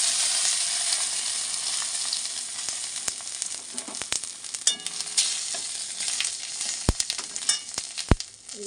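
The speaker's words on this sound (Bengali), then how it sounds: "তেজপাতা দিলাম, এবার দেবো হলো গোটা জিরা।" Whole cumin seeds and a bay leaf frying in hot oil, a bright continuous sizzle with scattered sharp pops and crackles, close and loud with no talking.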